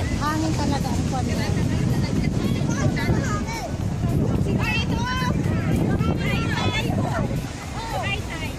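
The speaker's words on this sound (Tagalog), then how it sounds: "salubungin ang hangin" Strong wind roars steadily across the microphone at a beach, buffeting throughout while people talk and shout over it nearby.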